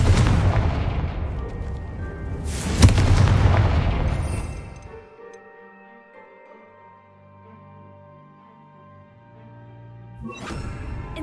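Booming magical explosions from the Confringo spell in Hogwarts Legacy, two heavy blasts close together with a long ringing tail and a third blast at the end, loud and near.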